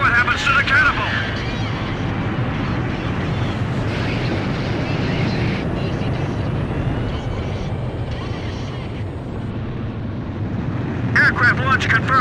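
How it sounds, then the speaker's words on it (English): An aircraft launched by catapult from an aircraft carrier in the Ace Combat 5 video game, producing a sustained, loud roar of jet engine and rushing air that persists through the clip, with voices talking over it. "Aircraft launch confirmed"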